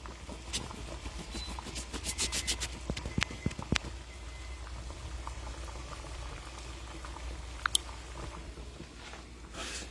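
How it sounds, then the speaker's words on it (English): Water boiling steadily in a pot with eggs cooking in it, a continuous bubbling hiss with sharp clicks and taps in the first few seconds, close and fairly loud, no talking. "something is boiling."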